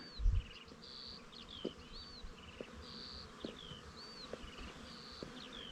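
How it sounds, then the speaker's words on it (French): Insects buzzing over a wide field of cultivated clary sage, a steady hum with occasional nearer fly-bys and faint bird chirps above it, outdoors with no talk. "Et ça bruit du bourdonnement des insectes."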